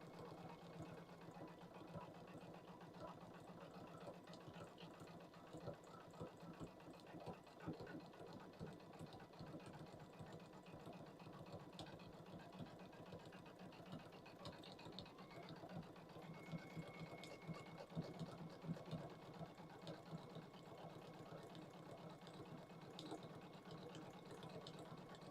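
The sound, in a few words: sewing machine stitching fursuit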